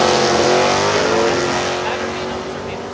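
Stock class drag race cars run down the strip at a class racer nationals event, a loud, continuous engine roar that holds steady and slowly fades, with faint commentary underneath.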